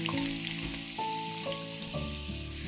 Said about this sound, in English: Once the oil is nicely hot, we'll fry the onions enough till they turn white